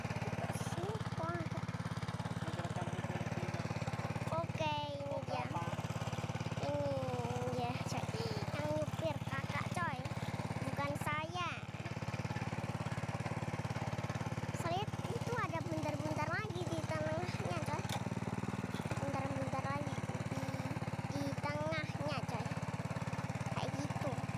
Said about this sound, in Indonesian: Jalan coy, traktor itu jalan.